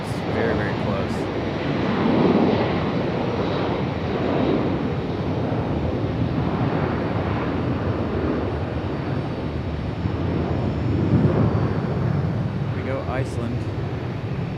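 Airplane passing close overhead at Raleigh-Durham International Airport, a loud steady broadband roar with slow swells in intensity, mixed with gusty wind buffeting the microphone throughout.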